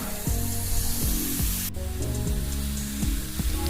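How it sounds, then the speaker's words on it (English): A steady hissing spray of coil cleaner onto an air conditioner condenser runs throughout, with a brief cutoff partway and a low rhythmic hum pulsing underneath, close by. "you spray the coil cleaner, let it sit for 5 minutes"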